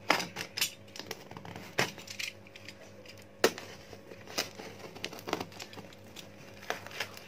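Someone opens a shipped package holding live guppy fish, producing faint crinkling plastic, tape and cardboard handling with scattered sharp ticks and rustles close by.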